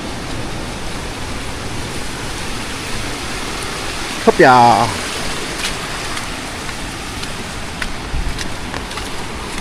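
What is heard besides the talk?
heavy nonstop rain after a typhoon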